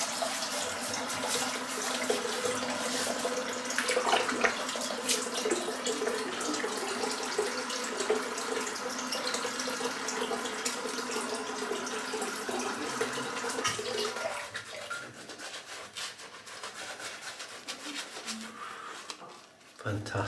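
Tap water running to wet a head before a shave, a steady splashing stream close by for most of the stretch before tapering off, with someone talking over it.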